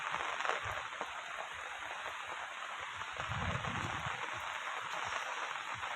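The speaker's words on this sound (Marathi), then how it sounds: "आज भरपूर असा पाऊस चालू कालपासून एकदम सेकंदाभरसुद्धा पाऊस थांबलेला नाही" Steady, dense rain pours down in a continuous hiss, with no pauses and no voices.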